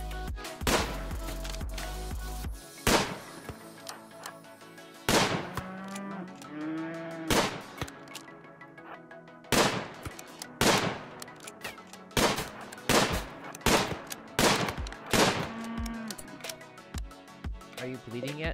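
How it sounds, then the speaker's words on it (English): A colonist in RimWorld shooting: a long series of sharp gunshots, some single and some in quick bursts, rings out among repeated low mooing calls like cattle. "Rob, I want you to shoot them."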